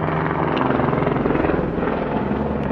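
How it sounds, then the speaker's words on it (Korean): A work helicopter flies overhead high in the mountains at about 3,800 m, its rotor a loud, steady, continuous thrum that fills the whole stretch with no pauses. "헬리콥터, 작업 헬리콥터 소리가 요란합니다."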